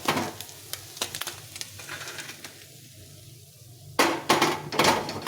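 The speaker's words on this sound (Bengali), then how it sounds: "এভাবে মাছগুলোকে ভেজে নিচ্ছি" Small fish fry in oil in a pan, a steady soft sizzle broken by light clinks and taps, then a louder burst of crackling and spattering toward the end, no talk.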